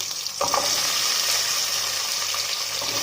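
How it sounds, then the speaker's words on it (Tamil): Sliced onions frying in hot oil in a pan for a fish curry, a steady loud sizzle that starts suddenly after a brief quiet moment and keeps hissing evenly, with no talk. "வெங்காயம் அந்த எண்ணெயிலே நல்லா வதங்கி வரணும்."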